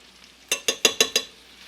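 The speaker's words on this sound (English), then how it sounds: "we're going to add our beef. And we're just going to kind of fry it up in the butter" Ground beef frying in melted butter in a pan, heard as five quick, sharp utensil strikes against the pan in an even row over a faint sizzle, with no talking.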